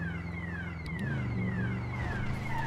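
A city alarm sounds outside, a steady wailing siren with rising and falling sweeps that repeat over a low rumble of traffic, moderately distant and continuous without any talk.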